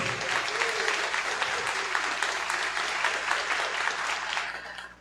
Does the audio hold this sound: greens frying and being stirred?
no